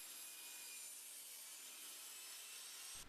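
A wooden magazine well being cut to final width with a saw: a steady, close, continuous rasping hiss that holds unbroken for about three seconds, with no talk.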